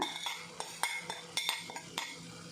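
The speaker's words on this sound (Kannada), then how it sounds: "ತಿರದಿತ್ತಿನ ತಾರಾಯಿ ಪಾಡ್ದು ಸರಿತೆ ಮಿಕ್ಸ್ ಮಲ್ಪುವೆ" Long beans and hog plum with grated coconut being stirred in a pan: a spoon scrapes and clinks against the metal in irregular, close taps and knocks, with no talking.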